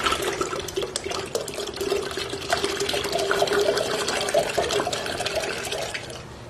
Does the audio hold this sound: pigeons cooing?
no